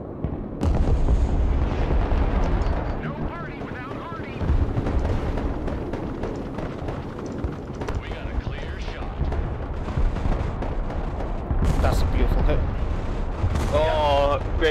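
Artillery from a Viper unit in the war game Broken Arrow: a dense, continuous stretch of rumbling blasts and gunfire across the whole span, with a player's voice speaking over it.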